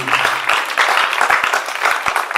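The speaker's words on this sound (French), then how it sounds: "On acclame très fort le Seigneur Jésus" A church congregation applauds and cheers loudly in praise of the Lord Jesus, a dense and steady wash of clapping and shouting voices that continues without a break.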